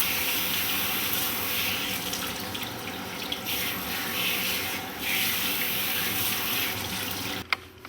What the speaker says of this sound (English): we're going to rinse out his hair, wash it